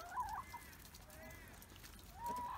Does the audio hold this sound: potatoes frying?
no